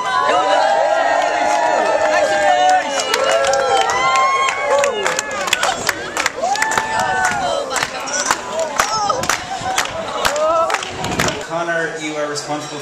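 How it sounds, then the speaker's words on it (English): Street performance crowd on Grafton Street cheering, shouting and clapping, loud and close, with bursts of whoops and scattered applause that swell and fade. "I want everybody cheering and clapping in the background"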